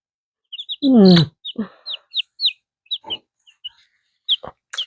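Baby chicks peep in short, high chirps, scattered and close, while a person speaks briefly among them.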